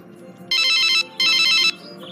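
Two loud bursts of a mobile phone ringtone, each about half a second long with a short gap between them, play on the caller's end while an outgoing call is being placed at home, over a quiet background with no talking.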